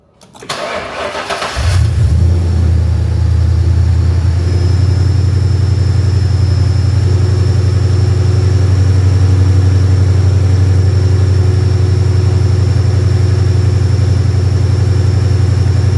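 A car fitted with a swapped Ford Coyote V8 cranks and fires in a brief churning start, then settles into a steady, loud, deep idle that runs on alone with no talk.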